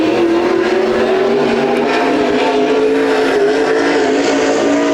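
Several 360 LS sprint cars race around a dirt track in a state title heat, a loud, continuous high engine roar that rises slightly in pitch, with no talk over it.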